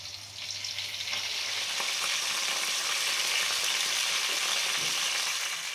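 Green chillies and curry leaves fry in hot oil, a steady, close, loud sizzle with crackling throughout, a low hum fading out early and no talking.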